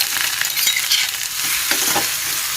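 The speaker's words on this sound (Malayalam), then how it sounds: "ചൂടായ എണ്ണയിൽ കടുക് ഇട്ട് കൊടുക്കാം" Mustard seeds crackle and sizzle in hot oil, a steady hissing fry with scattered pops, close up and without voices.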